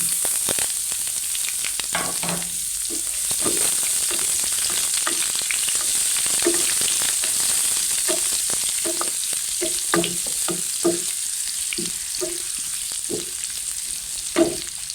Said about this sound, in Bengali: তারপর আমার কেটে রাখা পেঁয়াজ রসুনগুলো দিয়ে দিলাম।